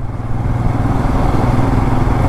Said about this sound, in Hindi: 40 की स्पीड में एकदम हल्का सा एक्सीलरेटर लिया फिर भी ये पुल हो रहा है वहाँ से